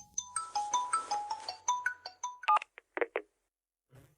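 A telephone rings with a quick melodic run of bright electronic beeps that are close and clear. A few separate short bursts follow before it falls silent.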